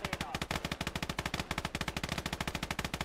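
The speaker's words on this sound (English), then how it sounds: "You can hear those dual MGs going off." Dual machine guns firing in the video game Gates of Hell, a rapid continuous stream of loud, close, evenly spaced bursts that stays sustained throughout.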